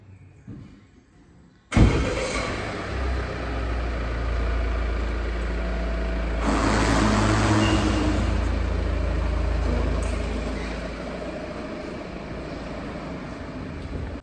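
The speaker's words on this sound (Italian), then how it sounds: "A questo punto salite in macchina insieme a me e andiamo anche a fare un giro di prova su strada." A Volvo V60 Cross Country D4 AWD diesel with Geartronic automatic is started from silence with a sudden catch, then idles steadily and revs as it pulls away, the engine drone loud and close from inside the cabin.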